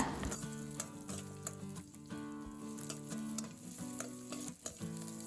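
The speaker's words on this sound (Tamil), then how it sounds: "எண்ணெய் சூடானதும் கடுகு சீரகம் வரமிளகாய் சின்ன வெங்காயம் பூண்டு சேர்த்துட்டு நல்லா வதக்கி விட்டுருங்க" Mustard seeds, cumin, dried red chillies, shallots and garlic sautéing in hot oil for a greens kootu: a close, steady sizzle with crackling pops and stirring scrapes, no talk.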